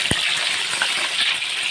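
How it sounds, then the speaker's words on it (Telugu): Bitter gourd slices fry in hot oil, a dense, steady hiss and crackle with small pops, close and continuous, with no talking. "ఇలా ఆయిల్లోనే ఫ్రై చేసుకోవాలి."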